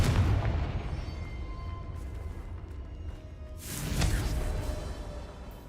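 Confringo fire spell blasts in Hogwarts Legacy, a dense rumbling explosion that swells again near the end over a continuous low roar, loud and close with no voices.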